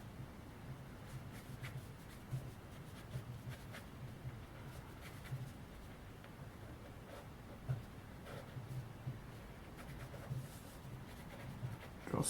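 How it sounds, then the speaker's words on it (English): A pen drawing small legs on paper for an ink mask sketch, a faint, steady scratching of short strokes at close range. "Draw some little legs."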